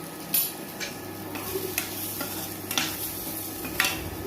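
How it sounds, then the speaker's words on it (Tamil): Grated coconut and ground spice powder sautéed in a pan for chickpea sundal, with soft intermittent scraping stirs over a faint, steady sizzle, close and quiet with no talking. "கடைசியாக நாம் அரைச்சி வச்சுருக்க பொடியவும் சேர்த்து வதக்கி எடுத்துக்கலாம்"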